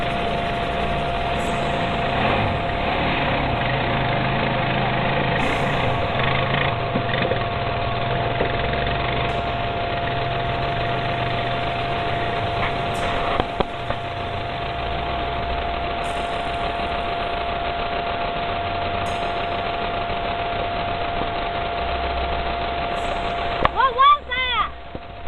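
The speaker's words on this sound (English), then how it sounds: "a group of friends riding their quads through the waterways" Quad bike engines droning steadily while a group rides through waterways, a constant loud rumble with brief splashy bursts near the end.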